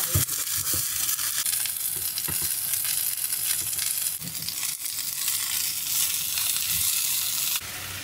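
Bacon frying in a pan during camper van cooking in Gunma, a dense, continuous crackle and sizzle with a few small pops and scrapes, no speech over it.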